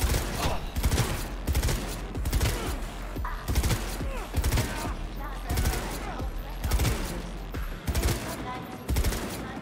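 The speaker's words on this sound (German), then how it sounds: "Immer schön sparsam schießen." Rapid rifle fire in Cyberpunk 2077 rattles off in repeated bursts of close, loud shots across the whole stretch, with a voice talking between volleys.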